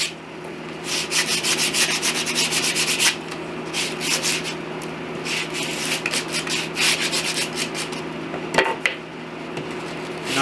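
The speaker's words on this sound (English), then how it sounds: "Now I'm just gonna sand the edges a little bit" Wooden edges of stool pieces being sanded by hand, a steady run of rasping rubbing strokes close up, with a brief knock near the end and no talk.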